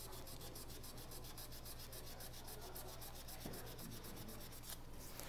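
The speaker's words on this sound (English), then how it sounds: "you can take a piece of 600 or whatever and just lightly sand it like this" Up close, 600-grit sandpaper lightly rubs a CA finish on a turned pen, a soft steady scratching with a fast back-and-forth rhythm, quiet and continuous throughout.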